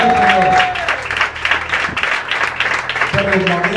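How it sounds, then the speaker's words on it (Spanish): A church congregation claps loudly during a sermon, a dense, continuous wash of clapping with voices and some singing or music running underneath. "Dale fuerte palmas al"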